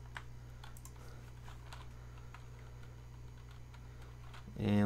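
Typing on a computer keyboard, a steady run of soft, quick key clicks close to the mic over a constant low electrical hum, ending in a sudden louder thump.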